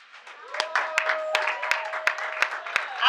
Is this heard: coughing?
no